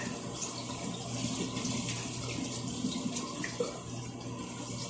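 Steady running tap water splashing into a sink while hands are washed, a continuous close wash of water that holds level throughout with no voices.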